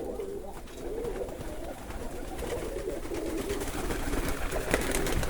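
Pigeons coo in an outdoor aviary of fancy breeds, among them Polish Widin pigeons, Hamburg owls and feather-footed pigeons. Soft, overlapping low burbles keep rolling under a steady hiss of background noise, with no talking.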